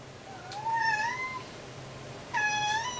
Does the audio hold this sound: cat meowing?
yes